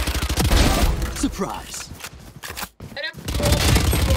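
Valorant gunfire from an ace round where every bullet is spent, loud bursts of shots over a game soundscape with a voice speaking partway through.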